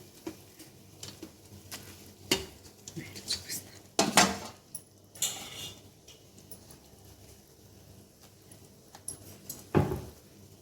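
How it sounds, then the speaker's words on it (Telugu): A pan of Rayalaseema fish curry is lifted and swirled by hand instead of stirred with a ladle, giving scattered metallic clanks and knocks with quiet gaps between them. "గెంటితో కలుపుకుండా ఇలా పట్టుకొని తిప్పాలి"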